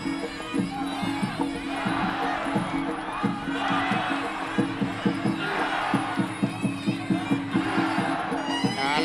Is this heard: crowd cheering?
yes